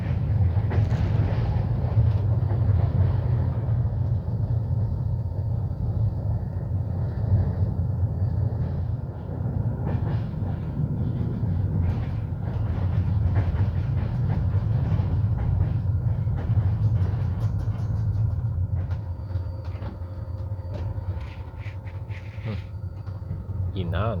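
The IRN 407 passenger train runs non-stop from Jibou toward Dej at night, heard from inside as a continuous low rumble with rattles and clanks, while a person talks throughout.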